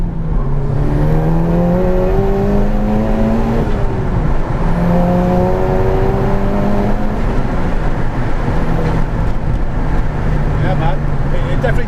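A 450 BHP meth-injected Edition 30 GTi pulls hard with rising engine pitch sweeping up through the gears, loud and close from inside the cabin, with voices talking over the engine.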